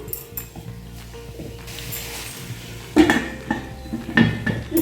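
Boiled small potatoes are mixed into spices in a metal pan. A spoon knocks and scrapes against the pan in short clattering bursts that grow louder and busier in the second half, over a low background hum; no speech.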